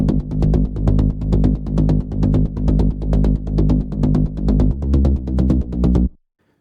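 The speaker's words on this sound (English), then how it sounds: "The bass is a flex preset from the Saif Samir synthwave pack" An 80s synthwave synth bass from a Flex preset in a Saif Samir synthwave pack pulses in a steady repeating pattern, loud and warm with bright attacks, playing alone before cutting off.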